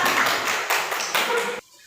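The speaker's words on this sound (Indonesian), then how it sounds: "Kalau gitu kita beri tepuk tangan untuk kelompok buah." A classroom group gives quick applause for a group presentation during a teaching performance test, a dense burst of clapping that stops abruptly after about a second and a half.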